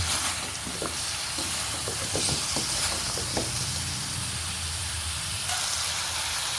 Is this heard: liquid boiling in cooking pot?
yes